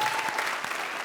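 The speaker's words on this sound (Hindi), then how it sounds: "तालियां।" Audience applause at a live comedy show, a steady dense clapping wash filling the whole short moment.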